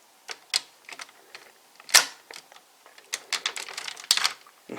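Small plastic Kyutama pieces from a DX Gigant Houou toy click and snap into their sockets, a scattered series of close, sharp clicks and light rattles.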